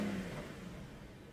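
A 2002 Audi S6 with a 4.2-litre V8 and four-wheel drive revs briefly, a quick engine rise and fall heard close and alone for about a second.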